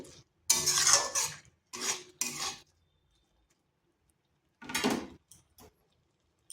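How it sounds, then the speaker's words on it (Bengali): Okra being stirred in a cooking pan over slow-to-medium heat, with a few close bursts of scraping and metal-on-pan clatter separated by near silence. "ঢেঁড়সটা ভালোভাবে মিশিয়ে নিচ্ছি"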